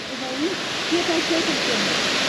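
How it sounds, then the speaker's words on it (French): Waterfall at the Cascada de los Vikingos in Spain, a steady broadband rush of falling water close by, with voices talking over it. "la cascade qu'on vient de traverser là, c'est la cascade de los Vikingos"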